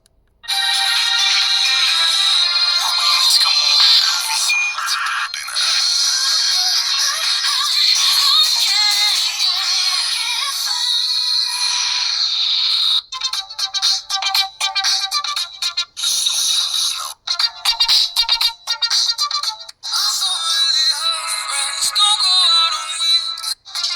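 A loud, bright ringtone melody plays at full volume from a cheap AliExpress phone, continuous at first, then turning choppy and stuttering in the second half.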